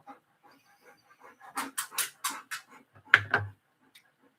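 A dog pants in quick, rhythmic breathy bursts at close range, ending with a couple of short whimpers, with a faint ticking in the quiet background.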